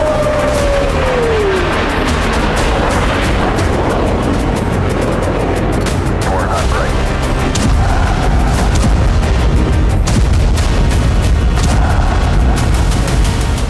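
Cluster and thermobaric bomb explosions in the Russia-Ukraine war boom and rumble loudly and continuously, dense blasts and crackling debris layered over one another, with a short descending whistle at the start.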